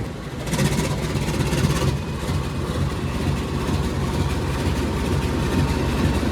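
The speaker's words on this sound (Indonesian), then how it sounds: "Kereta api Sri Tanjung berangkat kembali ya dari stasiun Kertosono teman-teman" The Sri Tanjung economy train pulls out of Kertosono station behind a single locomotive, a steady low rumble with wheel clatter, continuous and close, with no talk.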